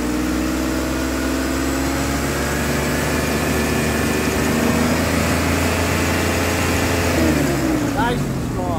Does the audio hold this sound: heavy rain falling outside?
no